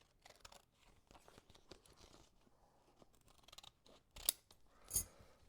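Scissors snip through scraps of heat-transfer material for a T-shirt design, giving soft crinkling handling sounds and then two sharp, distinct cuts near the end.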